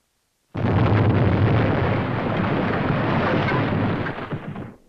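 A huge demolition blast at a WWII air base erupts suddenly after brief silence, a dense sustained roar rumbling for several seconds before fading out.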